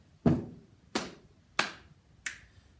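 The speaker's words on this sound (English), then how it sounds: "Try snap, snap, snap." Four crisp finger snaps ring out alone at an even, unhurried pace, sharp and close in a quiet room.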